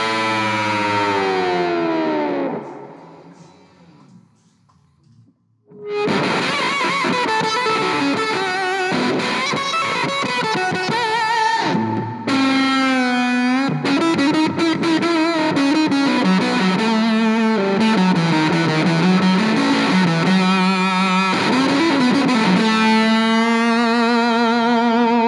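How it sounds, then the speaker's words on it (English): Electric guitar solo played through an Orange Fur Coat fuzz pedal with its octave-up switch engaged, loud and sustained with wailing bends and a brief pause near the start, then continuous searing lead lines. "I'm using the Firkoit fuzz by Orange Amps again, and I have the octave switch engaged so we get that octave up sound"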